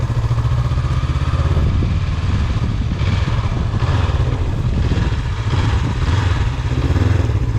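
A 2020 Honda CB500X motorcycle engine hums loud and steady at about 30 km/h while swerving around cones in a parking lot, with wind buffeting over the drone.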